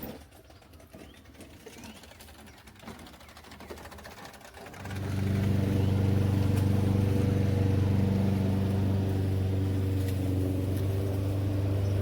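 Truck air conditioning kicking on to a loud, steady buzzing hum that starts partway through and holds constant, alone, after a quieter stretch of low background rumble.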